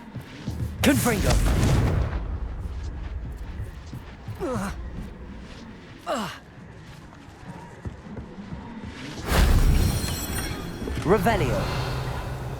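Confringo fire spell explosions in the Hogwarts Legacy video game, two loud blasting bursts near the start and again later, with quieter crackling impacts between them over a continuous game soundscape.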